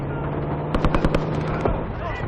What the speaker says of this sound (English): Gunfire on the left. Over those dunes.